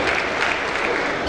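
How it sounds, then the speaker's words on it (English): Applause from an audience at a school centenary ceremony, a brief steady patter of clapping that fills the short moment at moderate loudness. "Applause"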